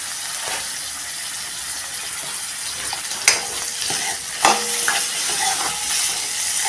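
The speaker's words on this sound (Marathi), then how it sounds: "कारलं पण आपण चांगलं मऊ होईपर्यंत परतून घ्यायचं आहे" Bitter gourd pieces tossed with softened onion in a hot pan give a steady sizzle under scraping stirs, with a couple of sharper clacks of the spoon against the pan.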